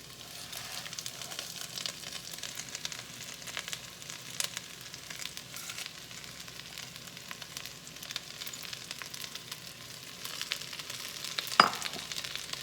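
Greens dropped into a hot frying pan for a chickpea stew, a steady soft sizzle and crackle close by with occasional stirring scrapes, one sharp clink near the end, no voices.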